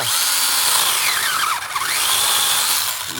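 A STIHL GTA 26 cordless mini chainsaw, fully charged, cuts through wood with a loud, close, high-pitched whine that stays steady, dipping briefly as the cut goes through.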